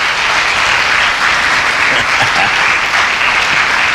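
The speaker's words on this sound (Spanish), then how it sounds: "Dale un aplauso fuerte al Señor" Loud, sustained applause from a large church congregation, steady and dense throughout with no talking.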